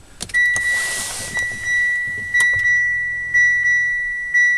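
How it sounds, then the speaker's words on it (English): A Mitsubishi Outlander PHEV plug-in hybrid car switches on and runs silently on battery: a series of electronic chimes and beeps over a faint steady electric hum, close up, with no engine roar. "The car's on. It's running."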